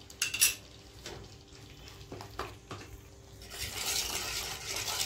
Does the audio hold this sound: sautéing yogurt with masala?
yes